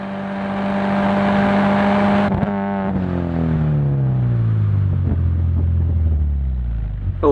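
A Subaru Legacy Wagon races around High Plains Raceway in light drizzle, its engine droning steadily at high revs, then shifting and climbing through the gears again, loud and close with no talk.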